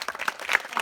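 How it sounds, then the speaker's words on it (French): A classroom audience at a girls-versus-boys quiz contest breaks into brief, loud, close applause, a dense burst of many clapping hands. "On acclame."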